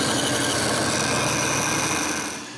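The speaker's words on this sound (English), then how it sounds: "The rest is cut on the bandsaw." A bandsaw cuts pieces of wood with a dense, steady whirring roar that holds evenly and then eases off at the end, with no talking.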